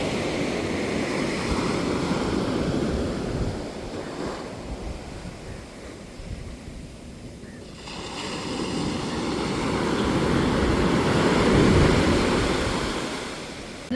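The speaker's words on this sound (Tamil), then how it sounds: "கடல் அலைகளை பாருங்கள் சவுண்டை இப்போ கேளுங்க" Sea waves wash onto a beach, a continuous roar of surf that dips briefly and then swells louder again, with wind buffeting the microphone and no voices.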